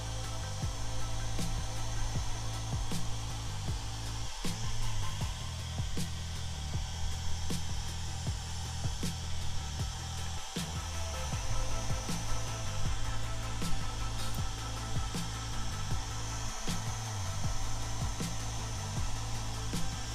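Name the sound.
hair dryer blowing on model tank parts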